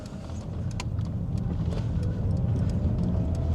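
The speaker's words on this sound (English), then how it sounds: "There's a car coming, so going to wait for that car." A car draws nearer at a road junction in Anniesland, Glasgow, a steady rising road rumble with tyre noise, fairly close, with a few faint clicks on top and no talking.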